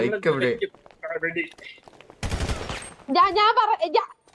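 A short, dense burst of rapid gunfire in a GTA roleplay game erupts between stretches of excited talking, loud and close.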